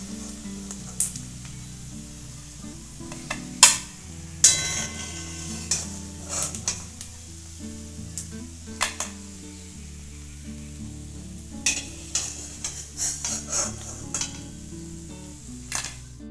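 Sabudana french fries crackle in hot oil and are lifted out with repeated metal clinks and scrapes against the pan, under a steady sizzle with no talking.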